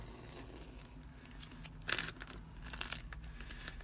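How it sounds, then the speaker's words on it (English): Crinkly, quiet peeling of a transfer image off a glassine bag, soft papery rustles with one brief louder tearing crackle midway. "Let me just see if I can peel this off."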